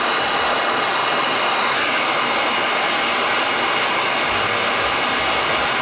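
A heat gun blows steadily and loudly at close range, heating solder shrink-sleeve connectors while wiring a fender eliminator on a CRF300L motorcycle, a constant broadband roar with no talk.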